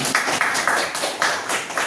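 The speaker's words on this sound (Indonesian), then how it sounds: "tepuk tangan" Students in a classroom at a vocational high school in Banda Aceh give a short round of clapping, a dense, steady patter with small surges, close by and fairly loud.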